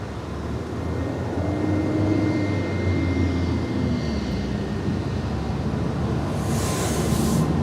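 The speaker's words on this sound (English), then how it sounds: "Coming in from Charlotte, this is American Airlines Flight 1674 on this A321." An American Airlines A321 jet arriving from Charlotte, its engines a steady broadband rumble with a low whine that shifts slightly in pitch, moderately loud and heard alone.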